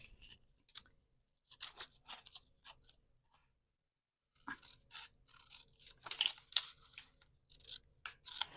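Scissors snip through excess paper up close, quick crisp cuts in several short bursts separated by a pause, quiet and unaccompanied by talk.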